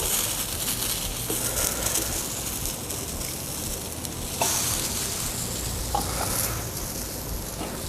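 Eggplant frying in a pan for a vegan burger, a continuous close hissing sizzle with faint crackles and occasional stirring scrapes, no voices.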